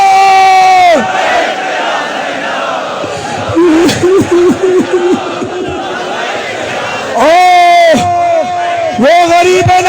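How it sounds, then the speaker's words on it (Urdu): A large religious gathering shouts the chant "Labbaik ya Zainab" in loud, powerful unison bursts, with a rumble of crowd noise between the calls. "ہاتھوں کو بلند کرو، پوری قوت سے کہو لبیک یا زینب۔"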